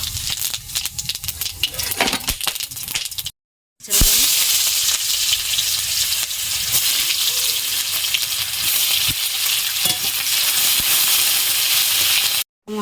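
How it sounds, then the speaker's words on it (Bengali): Whole garam masala and cumin sizzle in hot oil, a steady loud hiss that cuts out briefly and then returns at full strength, with no talk. "ফোড়ন দিচ্ছি গোটা গরম মশলা আর জিরে।"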